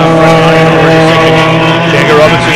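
BMW M Performance series race cars racing at Phakisa, a loud steady engine drone with sustained tones close by, with a commentator talking over it.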